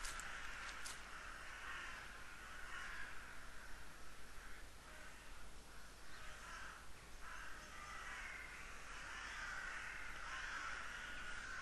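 Crows cawing in the video game The Last Door, a continuous faint chorus of harsh calls over a hiss of background noise, with no voices.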